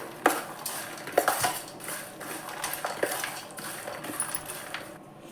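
A spoon stirs semolina chevdo with spices and powdered sugar in a pan, making a run of quick metallic clinks and scrapes against the vessel, close and fairly lively, with no voices.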